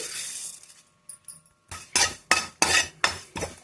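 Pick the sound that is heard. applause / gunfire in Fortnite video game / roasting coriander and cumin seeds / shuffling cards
roasting coriander and cumin seeds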